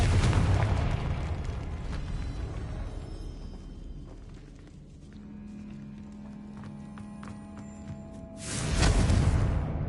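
A Confringo blasting spell explodes in Hogwarts Legacy with a loud booming burst, preceded by a dense rumbling blast at the start and followed by quieter game ambience and faint tones.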